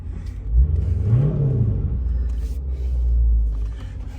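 A Dodge Challenger SRT 392 V8 rumbling close by, with a deep engine note that swells as it revs briefly, then settles into a steady low drone.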